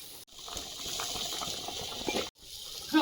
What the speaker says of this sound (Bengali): তরকারিটা ঝোলে ফুটছে এখন আলগা করে দেখে নেব